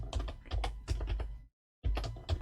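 Rapid bursts of typing on a computer keyboard entering a SUMPRODUCT formula in an Excel spreadsheet, close and fairly loud, with a brief silent pause before the keystrokes resume.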